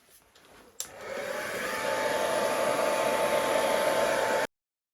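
A steady rush of blown air pushes thin acrylic paint across a paint pour, starting abruptly after a short quiet lead-in and holding a loud, even hiss until it cuts off.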